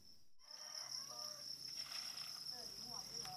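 Crickets chirping en masse in concrete pens on a cricket farm, a steady high continuous trill that runs throughout, fairly faint and ambient, with no talk over it.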